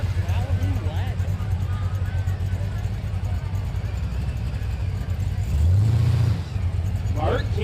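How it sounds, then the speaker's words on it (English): Supercharged big block Pro Charged 1981 Chevy Malibu wagon drag car at a no-prep drag race, its engine droning loud and steady with a sharp rising rev burst near the end, under crowd noise and a talking announcer. "1981 Chevy Malibu wagon with a big block Pro Charged"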